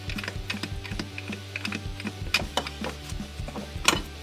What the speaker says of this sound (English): I'm just going to wind that down until I can get this bracket back on the strut.